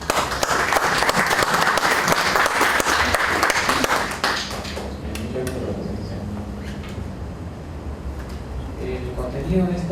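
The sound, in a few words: audience applause for a speaker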